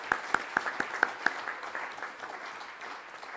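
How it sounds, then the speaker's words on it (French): During a formal Academy opening session in a hall, the audience applauds the permanent staff: a few sharp, close claps open a steady patter of moderate applause that softens and thins out. "Donc merci de les applaudir avec moi."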